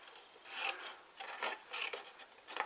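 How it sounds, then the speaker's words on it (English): Scissors or a blade cutting through cardboard along a score line while making a cracker and chocolate box, giving several soft, raspy strokes in short bursts, fairly close and quiet, with no talking. "so now we're going to actually cut up this score line here to the next score line"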